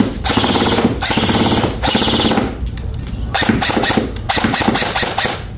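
A Larue Tactical SR25 airsoft rifle with an upgraded motor fires full auto in loud, close bursts of rapid mechanical rattle, with several long strings broken by short pauses and a few quicker bursts at the end.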